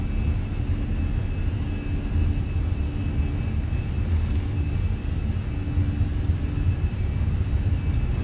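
Airbus A320 engines run at takeoff power in Microsoft Flight Simulator, a steady loud roar and rumble with a faint whine, continuous and unbroken, with no voices.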